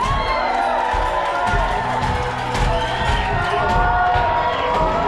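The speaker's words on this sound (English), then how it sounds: "make sure you cheer them on all the way through" A crowd at an Alaska lumberjack show cheers and whoops as lumberjacks race to chop through wood blocks, a continuous loud roar of shouting voices with children's shrieks mixed in.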